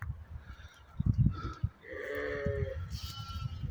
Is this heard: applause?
no